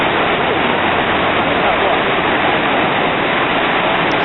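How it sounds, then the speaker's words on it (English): Niagara Falls pours over its edge in a loud, dense, unbroken roar of cascading water, filling the whole scene with steady rushing noise. "It's really nice to see the water just cascading over the edge, right, just like this, right there."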